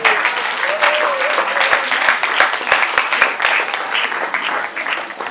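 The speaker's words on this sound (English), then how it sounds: "Let us clap for our teachers." Lively audience applause for teachers at a school maths festival fills the room, loud and continuous with rapid overlapping claps and a few cheers sustained for the full five seconds.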